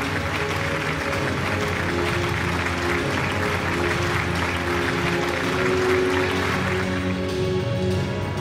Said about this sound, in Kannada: ಬನ್ನಿ ಜೋರಾಗಿ ಚಪ್ಪಾಳೆ.